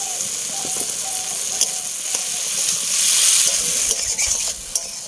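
Fried potatoes and a fried fish head sizzle steadily in a hot pan while a utensil scrapes and stirs them in short strokes, close and moderately loud, with no talking.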